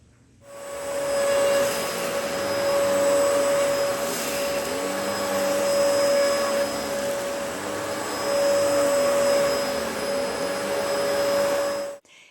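A vacuum cleaner sucking dried tea leaves up from a carpet, running as a loud, steady close-up whine with a strong tonal hum that shifts slightly as the nozzle moves, starting and stopping cleanly.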